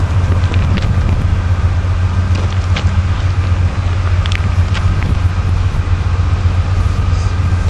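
A Norfolk Southern freight train with its locomotive passes close by as a loud, steady low rumble and roar, with faint metallic squeals and clanks running throughout.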